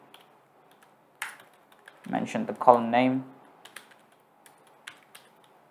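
Typing on a computer keyboard while writing code, with scattered soft clicks spread across the clip and someone talking over them in the middle.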